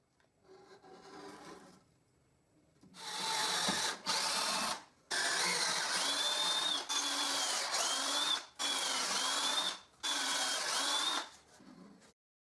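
A power drill bores holes through treated wooden posts in bursts: several loud, steady whirring runs of a few seconds each, separated by brief pauses, close up.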